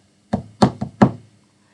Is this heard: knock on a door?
yes